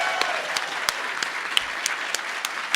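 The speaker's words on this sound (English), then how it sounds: "one more round of applause for Sibsy and Raven over here" Convention panel audience applauding two guests, a light, fairly distant patter of clapping from a modest crowd with a few sharper individual claps standing out, steady for a few seconds.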